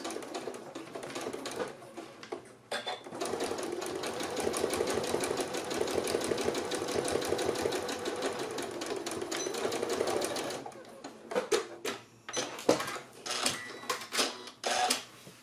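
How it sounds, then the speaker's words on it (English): Sewing machine stitching down the pleats of a fabric face mask, a close rapid mechanical whir for several seconds, then short bursts and clicks as it tacks at the end. "you're just going to stitch this down at 3/8 of an inch and just shy of 3/8. And I have my machine set to tack at the front and at the end."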